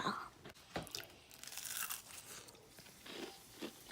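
Homemade fried Oreos crunch as someone bites and chews them, giving a series of crisp, crackling crunches and rustles, close up and fairly quiet, with no voices.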